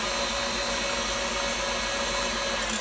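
An electric hand mixer runs steadily and loud, blending flour into a pineapple pound cake batter, with a continuous motor whine and no talking.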